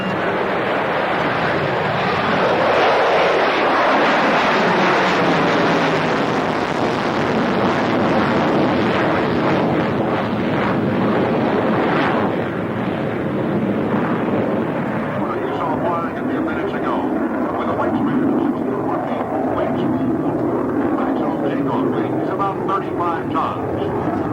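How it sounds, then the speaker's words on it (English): An F-14 Tomcat jet roars past at the 1993 South Weymouth air show, a loud, sustained, broadband rush swelling and fading across the whole stretch, with wind buffeting and a commentator's voice over the top. "Coming up, the F-14 Tomcat."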